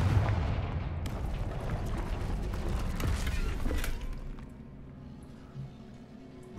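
Confringo fire spell blasting in the Hogwarts Legacy video game: a loud, sustained rumbling burst of crackling explosions that rolls on for several seconds, then fades to a quieter low rumble with a small thud near the end.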